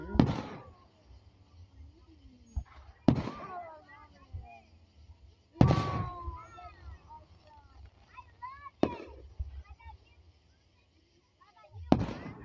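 Fireworks burst at a 4th of July show: five sharp booming explosions, each followed by crackling and fizzing, spaced a few seconds apart, with excited voices heard between them.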